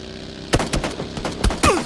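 Gunshots in PlayerUnknown's Battlegrounds on Xbox One: four or five sharp cracks in irregular succession, two close together, then a pair of louder reports near the end, each with a short ringing tail over quiet ambience.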